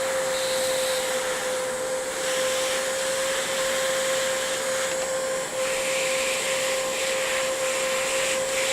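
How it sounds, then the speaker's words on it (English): A heat gun running at about 580 degrees to shrink yellow heat shrink tubing gives a steady, close blowing whoosh with a fixed motor whine, continuous and unbroken throughout with no talking. "The heat gun is up to about 580 degrees."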